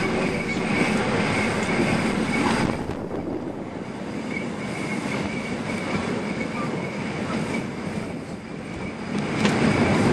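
A steam train in the Harz Mountains rumbles steadily along the track with broadband rolling noise, a faint high squeal running through it, loud and close throughout.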